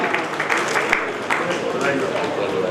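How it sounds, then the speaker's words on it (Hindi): Audience applause at a royal award ceremony in Bikaner, a continuous clatter of clapping with some voices and crowd murmur mixed in, fairly close and loud for a few seconds. "शीतल जी के लिए तालियां हो जाएं।"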